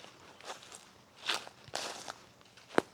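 Footsteps crunch across the grounds of an old Anglican church in Jamaica, several uneven steps close by on dry debris at a slow walking pace, with no talking.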